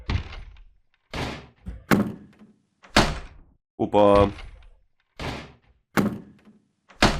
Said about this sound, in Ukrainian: Міна двері він вибив. Вибив двері.